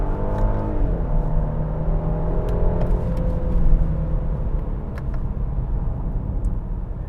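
Engine note of a 2021 Genesis GV80 SUV building under acceleration, with pitch sweeps rising and dropping through gear changes over steady cabin road noise, no talking.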